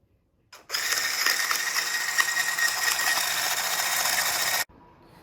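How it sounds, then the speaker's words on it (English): Electric mixer whisking 10 ounces of butter on high speed for buttercream, a steady loud whirring drone starting abruptly and cutting off near the end, with no talk. "Now we're going to be whisking 10 ounces of butter on high for about 5 minutes."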